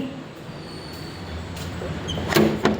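A door slides shut on what may be a bus during rain, a low rumbling hum with a brief clunk and hiss of air near the end, moderately loud.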